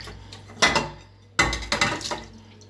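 Dishes are being washed at a sink, with sharp clinks of plates and cutlery in a few quick bursts over a faint background hum, close by.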